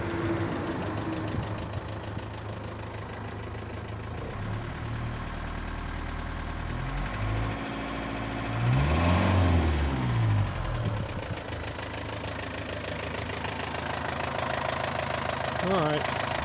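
An Isuzu NPR diesel truck engine, sitting unused for 11 years, idles with a rough, knocking low rumble close by, swelling briefly as the revs rise and fall midway through, with a person speaking over it.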